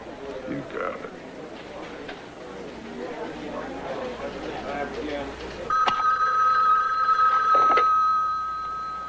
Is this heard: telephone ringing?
yes